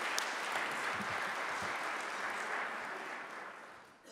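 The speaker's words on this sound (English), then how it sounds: "Give yourselves a round of applause." Audience at an MLK Day debate at Bates College giving itself a round of applause, a steady, moderately distant wash of clapping that fades out toward the end.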